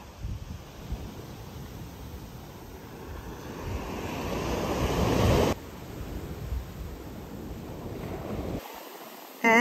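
Surf washes onto the sand at Warwick Long Bay, Bermuda, a broad, building roar of breaking waves with wind buffeting the microphone, swelling loudest midway before easing back.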